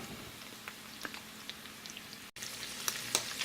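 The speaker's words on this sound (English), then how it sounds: "My meats are almost done frying." Soft, close sizzling of meat frying in a pan for bigos, with scattered small pops and crackles.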